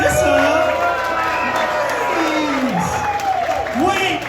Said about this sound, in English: Give a round of applause for Marissa.